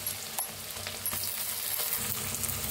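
A ground masala paste is fried with onion and a pinch of asafoetida in a pan for a bottle gourd dish. Its loud, continuous sizzle is broken by intermittent stirring scrapes, and no one speaks.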